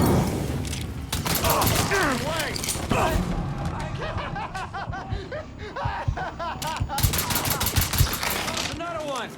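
Rapid bursts of gunfire from the Mafia III video game, repeated volleys and single shots across the whole stretch, with shouting and laughing voices in between.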